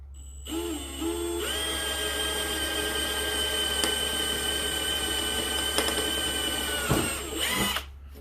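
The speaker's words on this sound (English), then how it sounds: "Drill them all 1/8, the holes all 1/8 first." A power drill boring 1/8-inch holes for custom bushcraft knives whines steadily at close range, spinning up with a high tonal hum that holds for several seconds before winding down, with a brief rev near the end.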